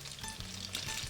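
Greek tomato fritters fry in hot oil in a pan, giving a steady, close crackling sizzle with a low hum underneath and no voices.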